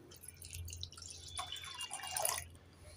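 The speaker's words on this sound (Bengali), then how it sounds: "এবার আমি দিয়ে দেব জল।" Water streams into a pan of rinsed lentils in a home kitchen, a soft splashing pour that grows brighter and fuller as it continues for a few seconds before tapering off.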